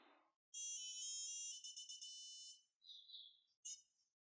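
A phone alert chimes with a bright, clear electronic melody, loud and close, followed by a couple of shorter tonal blips and a final short chirp.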